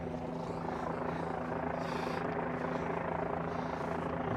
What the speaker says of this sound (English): Got that helicopter right there.